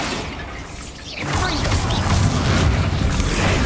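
The Bombarda spell from the Hogwarts Legacy video game goes off as a loud, close, booming explosion that swells and rumbles on for a few seconds, with a spoken voice around it.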